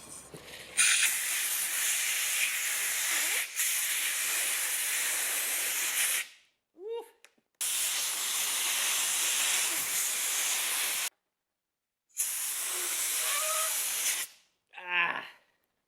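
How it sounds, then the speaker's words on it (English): Compressed air from a nozzle blasts loudly in long hissing bursts, with short gaps and squeaky rubbing between them, as it is forced under the handlebar grips of a Kawasaki Z900RS motorcycle to work them off. "Compressed air. I don't have the best end on it. I'm going to try and blow these grips off."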